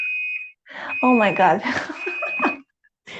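A car's steady high electronic beep sounds in short tones and a longer sustained tone, partly under a woman's excited speech and laughter nearby.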